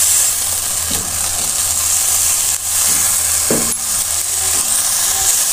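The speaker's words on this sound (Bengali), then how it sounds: "একটু ভাজা ভাজা মতো করে নেব।" Lentils (dal) being stirred and fried in a pan for a dim dal dish give a steady close sizzle, with a few scraping stirring strokes of the spoon and no talk.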